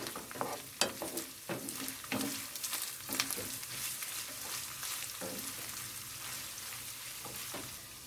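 Vegetables for eggplant musakka sizzle steadily in a pot while a utensil scrapes and clacks against it in irregular strokes; no voices.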